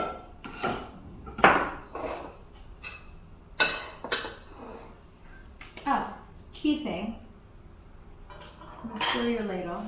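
A ladle stirring enchilada sauce in a pan, sounding as clanks and scrapes of metal on metal in scattered bursts, close and loud, with people talking between and over the clatter.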